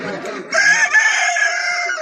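A rooster crows loudly and close at a poultry market, one sustained cock-a-doodle-doo rising after a short lead-in, filling the whole brief moment.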